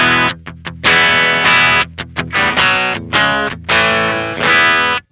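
El Brujo electric guitar with P90 pickups played through a Sonicake octave pedal, giving a thin, aggressive distorted tone with octave effect; a run of loud chords and single strums, some short and choppy, others ringing out.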